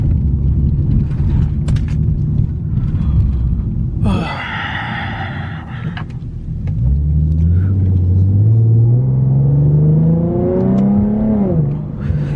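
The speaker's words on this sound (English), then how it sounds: "In the cabin, it sounds so smooth, like the exhaust." A Nissan G37 engine rumbles steadily with a deep exhaust drone, then revs up through rising gears while driving, loud and close as if heard from inside the cabin.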